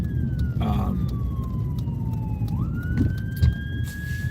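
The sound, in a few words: ambulance siren passing by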